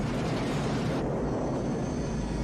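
Attack helicopter roaring loud and steady in an action-movie combat scene, a dense continuous engine and rotor rumble throughout with no voices.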